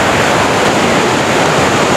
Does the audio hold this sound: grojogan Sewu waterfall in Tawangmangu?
yes